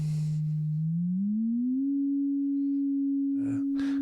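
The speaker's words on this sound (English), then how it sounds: "So this is just a sine wave." A synthesizer sine tone hums low, glides smoothly upward in pitch and then holds steady, with a couple of brief noisy bursts near the end.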